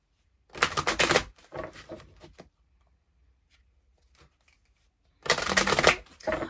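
Oracle cards being shuffled by hand in close bursts: a dense riffle at the start, a few softer shuffles after it, a quiet pause, then another vigorous shuffle at the end.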